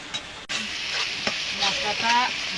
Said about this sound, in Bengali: এটা আমি ভালো করে কষিয়ে নেবো